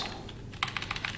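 Fingers tap quickly on a computer keyboard in a short, soft burst of clustered keystrokes in an otherwise quiet room.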